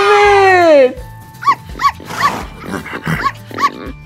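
A toy dog from a children's toy farm set with a Johnny tractor gives a series of short, close, loud barks, evenly spaced, after a long descending whine, with someone speaking Turkish around them.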